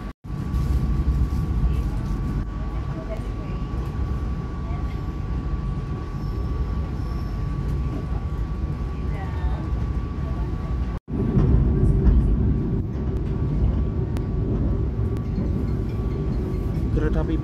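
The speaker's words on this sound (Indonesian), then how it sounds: "Kereta api Pasundan melintas langsung stasiun Wonokromo." The Pasundan passenger train rumbles steadily past at close range through Wonokromo station without stopping, a dense continuous roar with a faint high whine, briefly cutting out before the noise resumes slightly louder.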